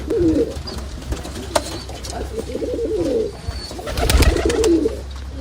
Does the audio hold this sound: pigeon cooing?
yes